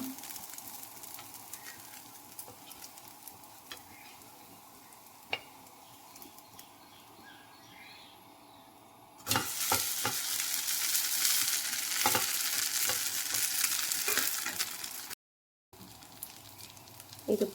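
A dosa on a hot pan, drizzled with pure coconut oil, crackles softly with scattered ticks, then bursts into a loud, steady sizzle as it is flipped, cutting out briefly before the frying resumes.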